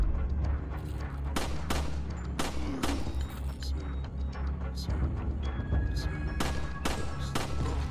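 Gunfire in the video game Resident Evil 4: sharp shots crack out repeatedly over a constant rumbling din of heavy, dense combat sound.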